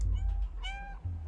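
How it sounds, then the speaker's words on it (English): A cat meows once in the Stray video game on PS5, played through a controller speaker: a short, tonal, slightly tinny meow mid-clip over a low background hum, with no talking. "It's funny hearing meow on the controller."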